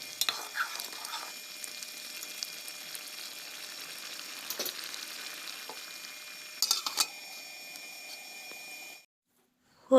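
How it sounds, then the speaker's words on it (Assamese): Pulao cooks in a covered pot with a steady, even bubbling hiss and a few soft clinks, running unbroken before cutting to near silence at the end. "পোলাও উতলি আহিল।"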